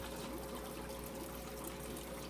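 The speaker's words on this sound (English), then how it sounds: "a small flow going through the aqua bridge" Water trickles steadily through an aquarium aqua bridge siphon, a soft, continuous low flow with a faint hum beneath it and no pauses or voices.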